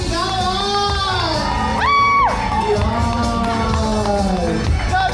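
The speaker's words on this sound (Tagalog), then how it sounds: "Palakpakan na may kasamang sigawan!" Party guests at a child's first birthday celebration cheer and shout together in a loud, continuous crowd roar, with a rising whoop in the middle and voices layered throughout.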